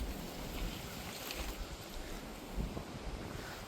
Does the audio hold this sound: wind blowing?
yes